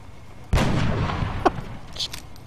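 Gunfire in the turn-based strategy game XCOM: a single heavy, booming shot hits sharply and rolls out into a reverberant tail, followed by a few fainter clanks and impacts.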